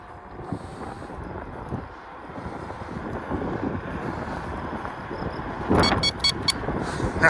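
A KuKirin G2 electric scooter accelerating while ridden outdoors, its low motor hum rising under steady wind rush on the microphone, with a few sharp clicks near the end.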